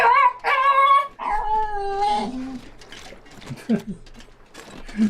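A dog playing with a bone lets out a few rising howl-like yips and whines, close and fairly loud at first, then trailing into softer chewing and snuffling sounds.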